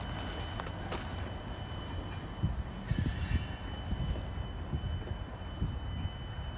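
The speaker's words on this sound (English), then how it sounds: "That was a good rock train." An empty freight rock train on a short line railroad rumbles past at close range with steady rolling noise and faint wheel squeal, no voices.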